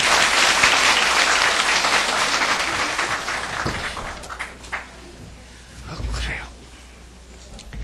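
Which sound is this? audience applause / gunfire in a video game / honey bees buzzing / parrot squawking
audience applause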